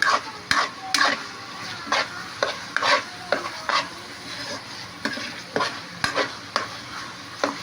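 Ground meat sautéing in a pan for ginisang sitaw, steady sizzling broken by repeated scraping and stirring strokes of a utensil against the pan, close and fairly loud with no talking.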